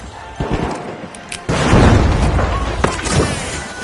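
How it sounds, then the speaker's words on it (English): A frag grenade goes off in The Finals during a cash-out fight: a heavy boom at about one and a half seconds, followed by sustained rumbling crackle and smaller blasts, with a faint thump earlier. "Frag grenade out! Throwing a frag!"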